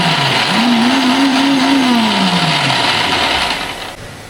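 Electric chopper whirring loudly as it grinds shallots, garlic, green chilli and ginger, a steady motor drone whose pitch rises and then slowly falls as the blades work through the mix, fading toward the end.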